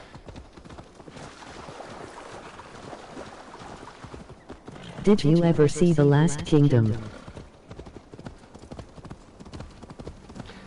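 Horse hooves clip-clop steadily in Assassin's Creed Valhalla, a quick rhythmic trot running through the whole stretch, while someone talks over it near the middle.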